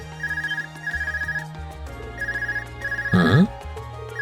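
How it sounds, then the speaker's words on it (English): An Arcus communication device in Trails of Cold Steel rings with a repeated electronic ringtone in short rhythmic bursts, a game chime and swelling music entering near the end. "Is that your Arcus ringing?"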